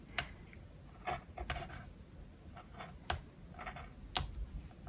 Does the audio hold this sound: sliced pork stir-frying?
no